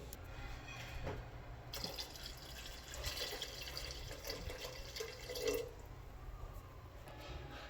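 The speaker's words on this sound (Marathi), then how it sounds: "तर याच्यामध्ये ट्रिपल रेशोनी याच्यामध्ये मी आता दूध ॲड करणार आहे" Milk is poured into a pot of already boiled rice to make kheer, giving a soft, faint trickle and gurgle of liquid in a quiet kitchen.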